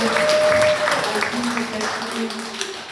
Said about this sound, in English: Let's give them a round of applause for decorating here.